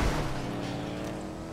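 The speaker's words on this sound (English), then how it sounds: "like that car you're in right now, it actually sounds good" A steady, rumbling car engine in GTA Online hums continuously with a low drone and slight whine, loud and close, no voices over it.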